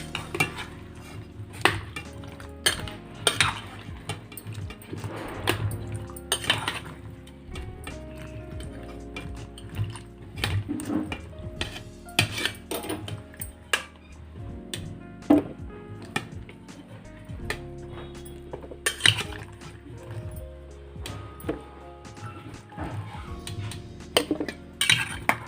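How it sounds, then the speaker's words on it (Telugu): Cut mushrooms are washed in hot water in a bowl, giving repeated splashing, clinking and scraping against the dish in an irregular rhythm, close and moderately loud with no talking. "వేడి నీళ్ళల్లో అన్నీ క్లీన్ చేసుకొని ఇలా పెట్టుకోవాలండి"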